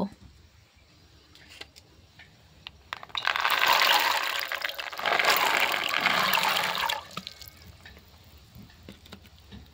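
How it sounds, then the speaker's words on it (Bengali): Clean water runs and splashes as diced potatoes and green peas are rinsed in a kitchen, a rushing pour that starts after a quiet stretch, briefly eases, then surges again before tapering into faint clinks and drips. "এবার আলু আর মটর আমি ভালো করে পরিষ্কার জলে ধুয়ে নেব।"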